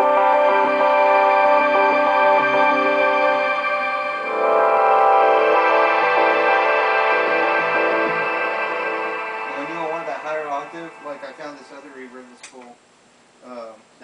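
Electric guitar drenched in chorus and reverb: a long, shimmering sustained chord, then a handful of picked notes that ring out and trail off into quiet.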